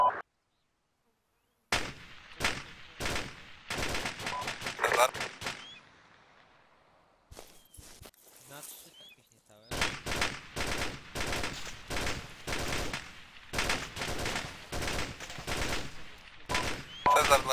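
Rapid bursts of video game gunfire crackle in dense volleys, pause briefly with faint rustling, then resume in sustained rattling fire.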